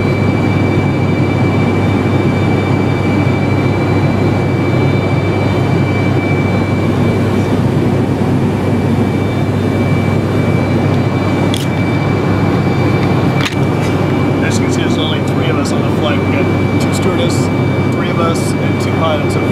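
Steady, loud airplane cabin roar during a flight to Bhutan past Mount Everest, a dense broadband engine and airflow drone with a faint tonal whine, joined late by a few sharp clicks and rattles.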